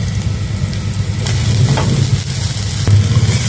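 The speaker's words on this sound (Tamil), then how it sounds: "கருவேப்பிலை இஞ்சி பச்சை மிளகா அதையும் சேர்த்துக்கோங்க நல்லா வதக்கி விட்டுருக்கோங்க" Curry leaves, ginger and green chili sauté in a pan for pongal kothsu, a loud close sizzle with rough scraping and stirring that swells in short bursts and never pauses.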